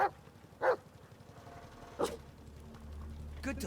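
Bullet, the dog in the video game Blair Witch, gives a few short, sharp barks spaced apart over a low droning background, fairly close and clear.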